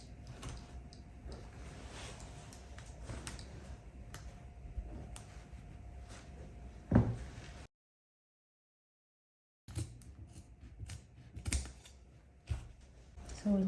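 Scissors cutting fabric for a kaftan dress: a string of close, crisp snipping clicks, broken by a short silent gap before the cutting resumes, with no speech.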